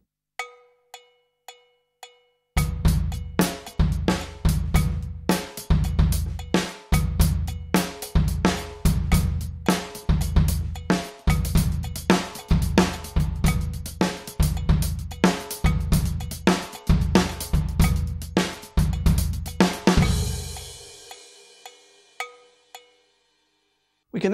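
Drum kit played in a 9-5-9-9 sixteenth-note grouping, a steady stream of sharp, accented hits with a pulsing, repeating pattern, ending in a ringing cymbal decay; close and clear with no talking.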